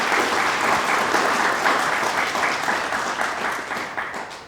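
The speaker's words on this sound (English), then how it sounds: "So if everyone could give a round of applause for Diane." Sustained round of applause from an audience at the opening event of a strangulation trauma centre in Queensland, steady dense clapping throughout that slowly fades toward the end, with no talk over it.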